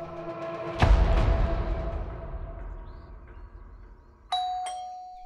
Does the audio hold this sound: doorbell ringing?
yes